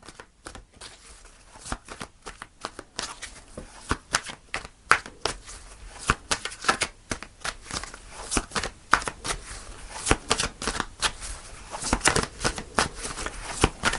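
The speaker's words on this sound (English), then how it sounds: "So I'm going to pull one more card, Scorpio, as an advice." Tarot cards shuffled by hand during a reading, a steady run of crisp riffling flutters and soft slaps lasting the whole stretch, close and fairly quiet with no talking.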